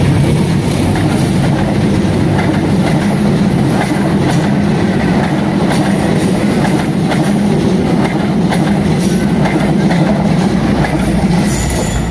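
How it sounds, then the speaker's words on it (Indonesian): Argo Parahyangan passenger train bound for Bandung from Gambir station rolling past, a loud continuous rumble with clickety-clack of wheels and occasional wheel squeal throughout, no voices. "itu dia teman-teman Argo Parahyangan terakhir jurusan Bandung"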